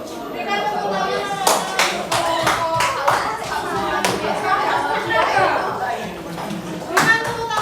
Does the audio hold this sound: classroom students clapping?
yes